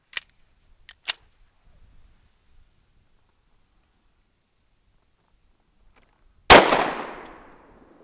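A single loud .45 ACP pistol shot from a short-barreled Smith & Wesson Shield fires into a gel block, sharp and near with a long decaying echo, preceded by a few small clicks and near silence.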